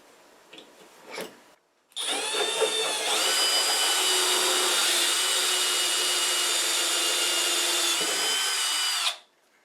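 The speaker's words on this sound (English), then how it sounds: "Drill into the drywall until it hits the tabs." A power drill whines steadily for several seconds as a cutter bit grinds into drywall for a towel rack anchor, starting abruptly and cutting off at the end.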